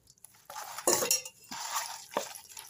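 Raw chicken is worked together by hand with spices and mustard oil in a pot, making close, wet squelching and scraping bursts with a few faint clinks against the metal.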